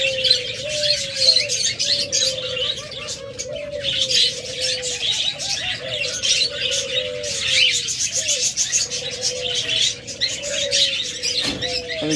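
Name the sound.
doves and pet birds chirping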